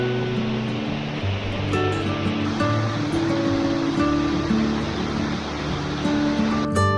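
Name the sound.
river flowing below in the Swale valley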